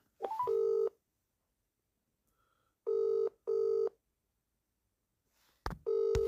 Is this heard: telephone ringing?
yes